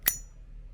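A chrome, vintage-style Zippo lighter with a flag design gives a single bright metallic ding as its lid snaps, ringing close and crisp before fading quickly into quiet.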